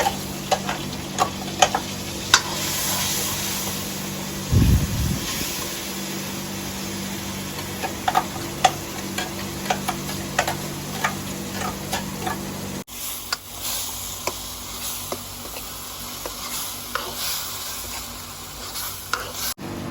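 Spices dropped into hot oil for stuffed tinda curry set off a loud close sizzle, with sharp ticks and scrapes of a spoon stirring. A brief thud sounds early on, and the frying hiss softens partway through.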